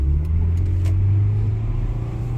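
A 2023 Acura Integra with a six-speed manual, driving through snow. The engine gives a steady, loud, low drone and road rumble from inside the cabin, with a few faint clicks at the start.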